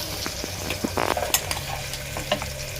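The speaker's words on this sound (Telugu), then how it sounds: "ఇప్పుడు మటన్ వేసుకోవాలి." Mutton pieces dropped into a pan of cooked-down tomato masala for a spicy curry, with a low steady sizzle and a few scraping stirs and clinks of a spoon against the pan.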